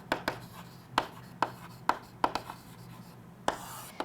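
A pen writes by hand on a board, giving repeated sharp taps and short scratchy strokes at an uneven rhythm, close and clear over a faint room hum.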